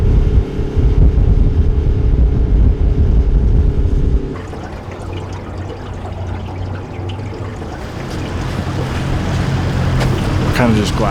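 A boat motors across a Yukon lake, its engine rumbling loudly at first and then dropping to a lower churn with water and wind noise, continuous throughout.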